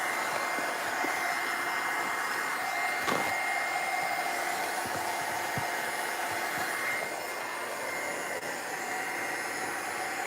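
A hair dryer runs steadily up close, drying a fresh ink painting, giving an even, continuous whooshing whine across the whole stretch with faint handling knocks and no talking.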